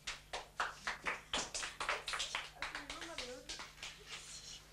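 Applause for contestant Marie-Aude at a game show, heard as a run of sharp, fairly close claps in a steady rhythm, with a voice talking over the later part.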